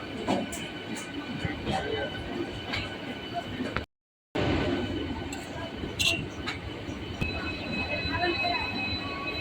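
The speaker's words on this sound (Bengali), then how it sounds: "ট্রেন এখন ধীরে ধীরে প্রবেশ করছে আজকের জার্নির শেষ স্টেশন বর্ধমান জংশন" A local train slowly entering Bardhaman Junction station, a steady rumble of wheels and carriages with faint squeals and a brief dropout, a voice speaking faintly over the noise.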